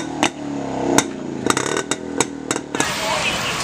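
Vintage Jawa Classic 250 motorcycle idling just after a single kick start, its exhaust giving irregular loud pops and thumps over a steady rumble, with a voice faintly underneath.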